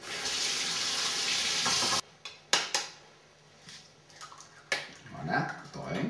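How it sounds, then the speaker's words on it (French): Tap water runs steadily for about two seconds while eggs are rinsed for a cake, then stops, followed by scattered clinks and soft handling sounds in a kitchen. "je vais rincer les œufs parce qu'il faut toujours laver les œufs"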